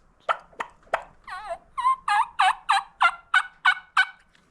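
A hand-operated turkey call imitates several wild turkeys with a clear, loud series of about a dozen yelps. After a few sharp clucks, it settles into an even, rhythmic run of rising yelps heard alone.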